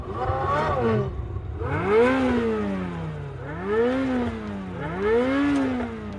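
A Ferrari engine revs in three rising and falling surges, each climbing in pitch then dropping, loud and close with no talk.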